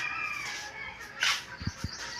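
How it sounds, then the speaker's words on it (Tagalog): Chickens squabbling over a nest, a few short clucks and squawks near the middle over a noisy farmyard background, with two low thumps near the end. "Nag-aagawan sa limliman ang manok."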